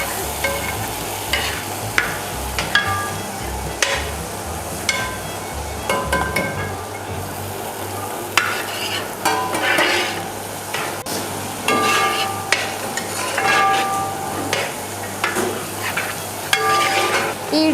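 Crushed chili dropped into ginger and garlic frying in coconut oil for a Kerala prawn roast, with a steady close sizzle and repeated sharp scrapes and clinks of a spoon against the pan.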